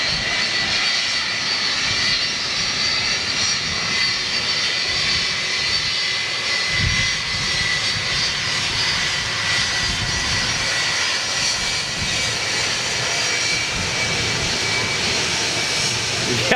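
A Boeing 757 fitted with Rolls-Royce RB211 jet engines at Manchester Airport, its broad steady engine roar filling the scene at constant loudness throughout, with people talking over it.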